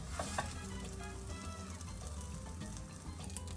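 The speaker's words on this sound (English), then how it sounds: "I'm just going to use my spoon to flatten down the omelette so that it cooks evenly all round" An eggless omelette fries in a pan while a spoon presses it flat, giving a steady, close sizzle that runs unbroken throughout with no voices.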